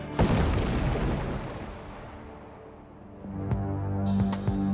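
A landmine detonated by a Mine Wolf mechanical demining machine sets off a heavy, deep boom that rumbles and slowly decays, followed by a faint mechanical hum and a few light clanks.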